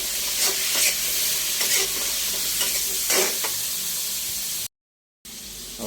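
Squash pieces sizzle in a pan of golden-browned frying garlic, a loud, close, continuous hiss broken by scraping stirs, cutting to silence for half a second before the sizzling resumes.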